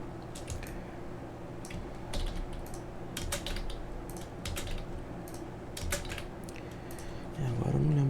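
Keys clatter on a computer keyboard in short irregular bursts of taps, close and fairly soft, over a faint steady hum, with a brief voice near the end.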